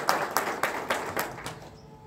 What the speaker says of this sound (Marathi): आपल्या सर्वांसाठी एकदा टाळ्या.